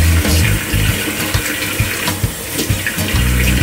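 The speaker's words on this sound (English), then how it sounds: "Put the water in here." Water runs steadily from a tap into a container at a bathroom or home sink, a loud, continuous splashing rush with small gurgling fluctuations throughout.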